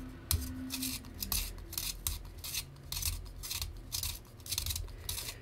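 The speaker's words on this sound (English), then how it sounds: "I'll just grab the regular Palomino Blackwing here, and you'll put it in, and then just as you'd expect with any pencil sharpener" A Palomino hand pencil sharpener grinds a Palomino Blackwing pencil, giving a steady run of close, dry rasping strokes with a repeating rhythm and no talking.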